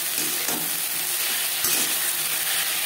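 Ginger and green chili paste frying and being stirred with vegetables for a Bengali pabda fish curry, a steady dense sizzle with soft scraping stir strokes throughout, close and continuous.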